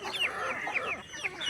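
A brood of young chicks gives soft repeated peeping and clucking calls, close and fairly quiet, with overlapping chirps throughout.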